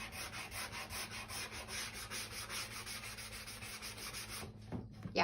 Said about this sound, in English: I'm just going to go back in with my sanding block again and just kind of give it a rough sanding around the edge